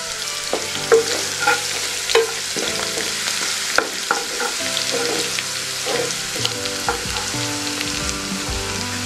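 Garlic fries in hot oil in a pan for a gram-leaf bhaji, giving a loud, continuous sizzle broken by occasional scrapes and knocks of a spatula stirring nearby.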